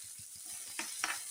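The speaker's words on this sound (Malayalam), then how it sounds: "നല്ലൊന്ന് വഴറ്റി വെക്കട്ടോ." Chopped onions sautéing in hot oil in a pan with spluttered mustard seeds, a faint, steady sizzle with a couple of brief scraping clicks from stirring partway through.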